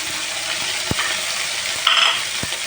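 Ginger, cumin, poppy seed and cashew pastes fry in hot oil for katla fish kalia, a dense steady sizzle close by, broken by a few soft stirring knocks.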